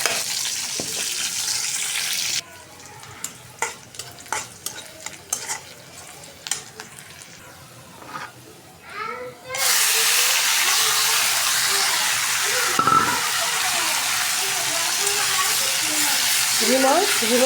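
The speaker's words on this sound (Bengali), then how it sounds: "এখন তেলে দিয়ে দিব শুকনো মরিচ দিয়ে দিচ্ছি। এখন রসুন আর পেঁয়াজ দিয়ে দেবো।" Dried chili, garlic and onion go into hot oil with a pan of greens, and a loud, steady sizzle rises close by. Scraping and stirring come before it, and a voice is faintly audible.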